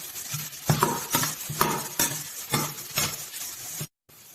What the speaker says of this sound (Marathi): आता आपण हे सर्व मिक्स करून घेते मी हे सर्व